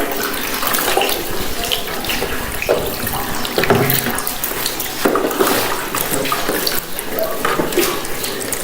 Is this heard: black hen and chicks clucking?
no